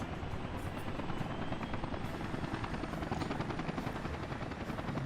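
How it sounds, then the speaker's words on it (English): Two helicopters in the city-building game Workers & Resources: Soviet Republic, a steady loud rotor drone with rapid blade chop continuing throughout, no talk. "So our 2 helicopters are working hard."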